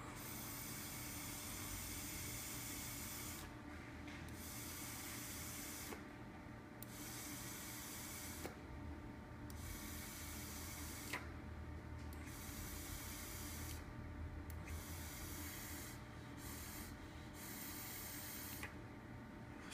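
A long, steady crackling hiss from a K-Fun rebuildable tank vaped on a mod held at 5 volts, broken by several short breaks between puffs, close and quiet.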